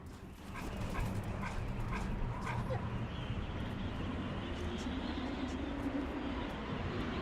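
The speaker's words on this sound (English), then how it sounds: "Can I pet the dog?" Dog in Metal Gear Solid 4 gives soft barks, yips and whimpers over a steady rumbling game background, with a voice talking faintly now and then.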